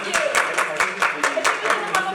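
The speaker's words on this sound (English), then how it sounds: "Applause here." Conference audience applause, a brief burst of brisk, rhythmic clapping from a group, close and fairly loud.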